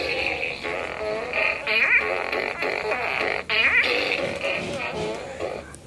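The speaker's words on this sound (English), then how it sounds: "He's got a fart gun." A toy fart gun going off indoors: loud, buzzy blasts that bend in pitch, two or three longer squawks among a continuous run of rasping bursts, with faint voices in the background.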